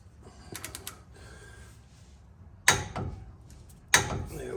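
A bolt on the rear brake of a Ford F-250 is tightened to torque, with soft ratcheting clicks followed by two sharp metallic snaps from the torque wrench, close up and alone.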